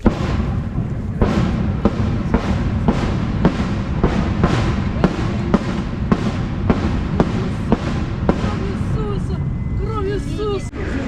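Sharp bangs of gunfire during shelling in Kherson go off in a rapid, fairly regular series over continuous background noise, with people talking and clattering nearby as food is handed out.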